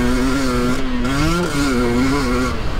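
A Husqvarna TE300 dirt bike engine drones loud and close on slippery terrain, its pitch wavering as the throttle rises and eases, with no talk.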